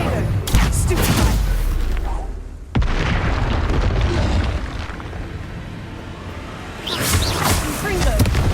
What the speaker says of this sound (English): Potato, stupefy!